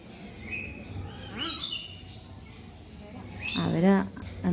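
Parrots at an aviary in a Kannur park give sharp chirps and squawks in short bursts, the loudest near the end, amid background chatter and ambient noise.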